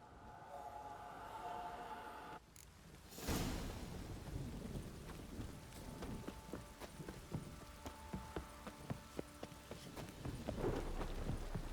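Steady heavy rain pours down with a deep rumble of thunder in the video game The Witcher 3: Wild Hunt, a dense hiss of drops throughout and occasional sharper patters.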